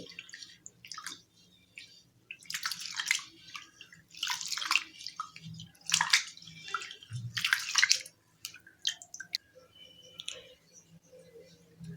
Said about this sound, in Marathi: इथे मी तांदूळ सुरुवातीला धुवून घेते तांदूळ आपल्याला एकदा स्वच्छ धुवून घ्यायचा आहे